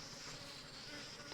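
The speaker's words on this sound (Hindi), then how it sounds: "तो ये देखिए भाई मधुमक्खी का स्वार्म आता हुआ जो रॉबरी कर रहा था" A honey bee swarm arrives at an apiary, a dense, steady insect buzz that fills the whole short stretch at low level, with no voices.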